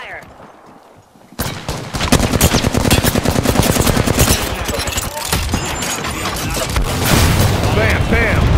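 Gunfire in the video game Apex Legends, with rapid bursts of automatic shots that start suddenly after a quiet moment and continue densely and loudly throughout, under a player's talk.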